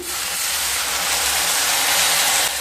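Ground spices with a little water sizzling in a pan while frying for a red spinach and masoor dal dish, a loud continuous hiss that holds steady throughout, close up.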